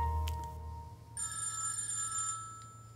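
A telephone bell rings in a home, a steady electronic trill that starts about a second in and keeps going at moderate loudness over a low hum, with no talking.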